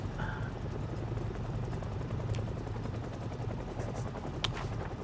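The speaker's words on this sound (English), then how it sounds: "Helicopter, I think, is probably the sound with the largest radius in the game." A helicopter flying over in the zombie survival game Project Zomboid, a steady, dense rotor drone that holds at an even loudness for the whole stretch with no talk over it.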